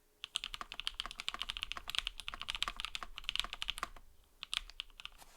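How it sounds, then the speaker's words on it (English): Rapid, steady typing on a repaired KBD67 mechanical keyboard with split backspace, clacky keystrokes close up in dense bursts with a brief pause near the end, no talk. "Let's do a typing test."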